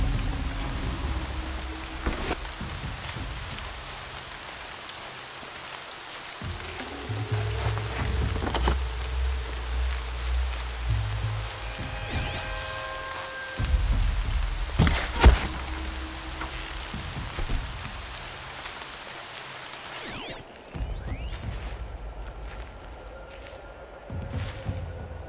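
Rain falls steadily in the video game Horizon Zero Dawn, a constant patter on surfaces with occasional louder drops and game effects, with no talk over it.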